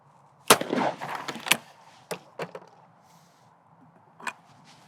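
Shotgun shots fired at a pair of crossing clay targets on an outdoor clay shooting ground, with a loud close blast followed by several sharper reports and a lone later shot, each ringing out against quiet surroundings.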